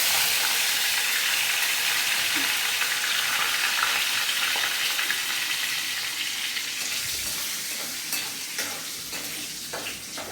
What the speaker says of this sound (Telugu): ఆవాలు చెట్టు పట్టమన్నాక బాగా వేగాక ఇంగు వాసన అవి బాగా వస్తున్నాయి